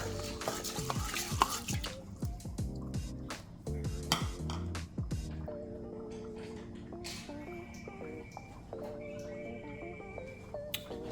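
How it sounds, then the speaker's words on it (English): A spoon clinks and scrapes around the metal pot of an Instant Pot as rice and water are stirred, with uneven knocks and a faint ringing tone. "And give that a good stir."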